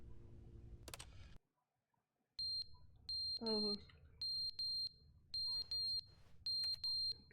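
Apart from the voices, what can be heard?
fire alarm low-battery beeping in The Stanley Parable video game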